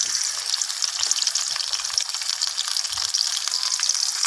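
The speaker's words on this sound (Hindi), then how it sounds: "अब पहले सबसे पहले हम इसमें मछली डालेंगे, हल्की सी फ्राई करेंगे इसे।" Fish fries in mustard oil with a steady, close, hissing sizzle that stays even throughout, and no voices over it.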